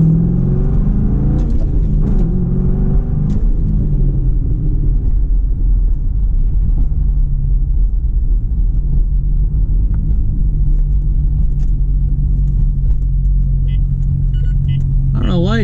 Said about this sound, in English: I'm going to go ahead and slam through some gears and drive down the road.